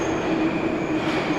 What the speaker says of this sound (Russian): Поезд в сторону центра.